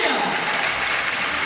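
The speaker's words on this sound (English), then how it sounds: "please give a round of applause to the participants and of course winners" A curling championship audience applauds the participants and winners with a short burst of dense, loud clapping that carries through to the end.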